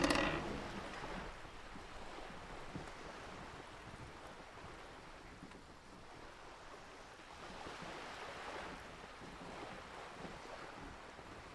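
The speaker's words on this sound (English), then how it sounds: "The wind flaps the sail above her." Wind and waves around a sailboat in the game Disco Elysium, a soft continuous rush of surf and gusting air with faint low flapping, distant and quiet, no voices.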